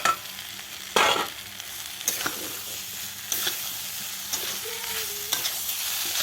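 Fried soybean chunks and potatoes tipped into sizzling masala for a no-onion, no-garlic Bengali soybean curry, a loud clatter at the start followed by steady sizzling and scraping stirs, fairly close.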